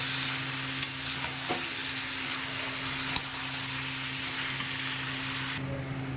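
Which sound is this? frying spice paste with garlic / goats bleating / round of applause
frying spice paste with garlic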